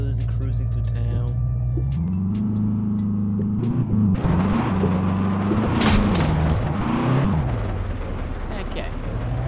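A 2015 Ford Mustang GT rolls slowly through a Latvian town in Euro Truck Simulator 2, its steady V8 engine drone rising and shifting in pitch as it accelerates, with a burst of noisy mechanical rumble midway. A voice talks over it.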